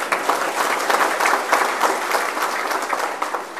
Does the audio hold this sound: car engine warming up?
no